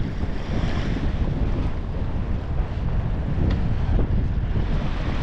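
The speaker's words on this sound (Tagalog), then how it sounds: "Yung lakas ng hangin." Strong wind roars and buffets the microphone continuously, with rushing water and surf noise underneath and no voices.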